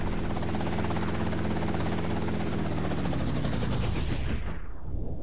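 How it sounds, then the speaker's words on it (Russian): Helicopter rotor blades spin with a loud, steady, dense whirring chop whose pitch slowly drops as it winds down, then fades away near the end. "вертолеты оснащены особым устройством, непрерывно вращающимися на оси лопастями"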